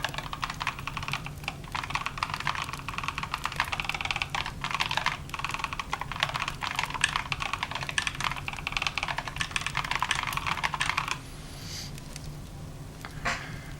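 Steady, fast typing on a modern computer keyboard, with dense clattering keystrokes running continuously at close range for about eleven seconds before thinning to a few quieter taps.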